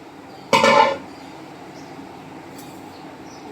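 Grated cucumber scraped off a grater into a container: one short, loud burst of scraping and clinking at the start, then near silence with a faint clink or two.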